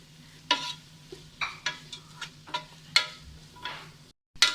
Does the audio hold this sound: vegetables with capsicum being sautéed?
yes